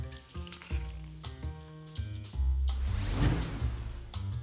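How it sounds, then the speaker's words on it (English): Chopped onion fries in a pan for a chicken and aubergine stew, giving a steady hiss that swells into a louder sizzle partway through, heard beneath background music. "Let onion fry for 5 minutes."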